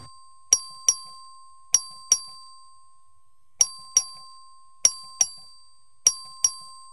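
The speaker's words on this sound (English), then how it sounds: "The clerk ring the bell." Voting bell rung by the clerk in a legislative chamber: clear ringing dings that come mostly in quick pairs, repeated several times with gaps between, each ringing out and fading, with no talk.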